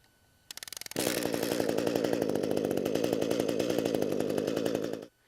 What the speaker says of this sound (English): So I simply have to pull the recoil 1 to 2 times and the unit will fire.